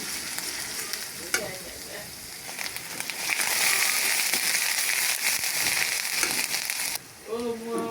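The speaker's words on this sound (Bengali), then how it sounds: "এবার আমি ভালো করে নেড়ে চেড়ে দিয়ে দেবো" Onion and garlic paste sizzles loudly in a hot pan while being stirred, with steady crackling frying noise and scraping stir sounds for several seconds, cooking for a pangas fish dish; a brief voice enters near the end.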